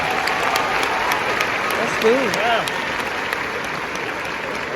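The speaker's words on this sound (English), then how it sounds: "Let's give her another round of applause" A graduation ceremony audience gives a steady, full round of applause, continuous dense clapping with a short spoken remark passing over it midway.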